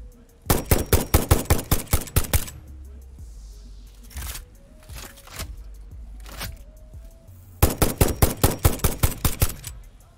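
Rapid bursts of rifle gunfire from the video game Satisfactory, loud and close, with a long volley at the start, scattered shots in the middle and another fast volley at the end.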